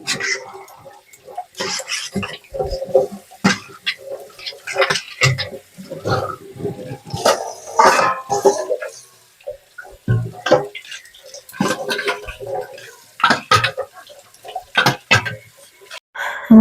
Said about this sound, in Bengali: আমার বাসন ধোয়া শেষ